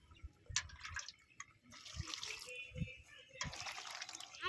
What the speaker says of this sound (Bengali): এবার সবজিগুলো সব ধুয়ে নেব।